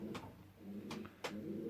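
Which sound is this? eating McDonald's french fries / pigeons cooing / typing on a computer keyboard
pigeons cooing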